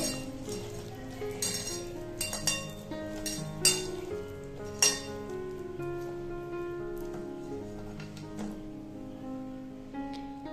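An egg and flour paratha batter is mixed in a bowl: quiet clinks and scraping strokes of a utensil come in irregular bursts, with a few sharper knocks against the bowl.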